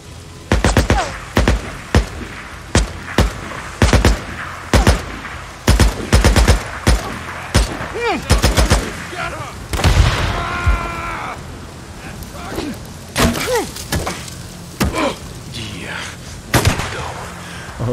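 Gunfire in the video game Days Gone, with sharp rapid shots in rattling bursts and single cracks spread across the stretch. Someone talks over part of it.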